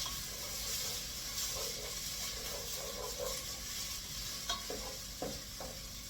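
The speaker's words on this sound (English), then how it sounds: "stir that around in some olive oil until it's translucent" Chopped medium onion sizzling in olive oil in a pan while being stirred, a steady close frying hiss broken by soft scraping strokes of the spoon, with no talking.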